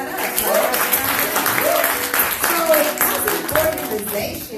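An audience at an indoor organization gathering claps and applauds in a steady, lively patter of many hands, with a voice talking over it.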